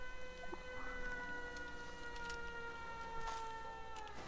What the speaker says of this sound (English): Just look for the sound of the siren